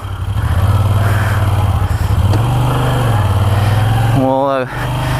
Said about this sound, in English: So we're going to take it for a little ride here.